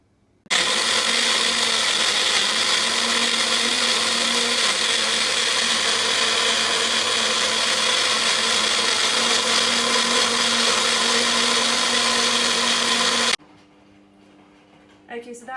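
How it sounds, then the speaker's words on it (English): A kitchen blender whirs loud and steady for about thirteen seconds, blitzing a green chutney sauce for a chicken roast, then cuts off abruptly and leaves near-silence. "What we're going to do is blend this, and I'll show you how that looks."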